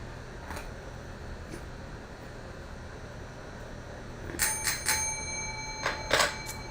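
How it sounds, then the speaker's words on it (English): A school bell rings in a classroom setting, several bright metallic bursts in the second half over a steady background hiss, moderately loud with no talking. "oh, the bell rang, which means class is in session."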